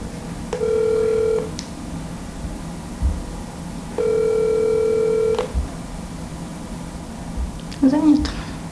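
An outgoing telephone call rings unanswered, with long steady ringback tones repeating at regular intervals over a low background hum, followed by a short electronic blip at the end.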